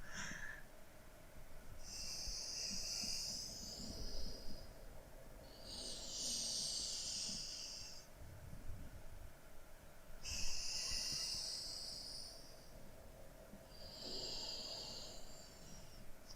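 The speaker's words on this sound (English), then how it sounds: "Inhale. Exhale. And just continue. Take 3 more cycles on your own." Slow, deep yoga breaths during a pregnancy yoga session, with four unhurried cycles of airy inhaling and exhaling, quiet and close, with calm pauses between.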